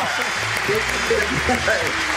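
A live comedy show audience claps in a thick, sustained wash for a stand-up comedian on stage, his voice running over the top of it.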